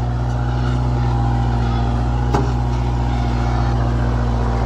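A Kubota MU 4501 4x4 tractor pulls a tiller through soil, its engine drone loud, close and constant with a steady low rumble. A brief click sounds midway, and no one speaks.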